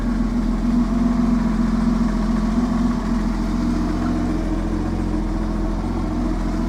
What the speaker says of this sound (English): So there we are. So the engine's running.